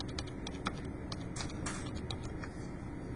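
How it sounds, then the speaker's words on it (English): Quiet, quick typing on a computer keyboard, a run of light, irregular key clicks close by over a low room hiss, with no talking. "So I'm going to type in 50s fashion poses"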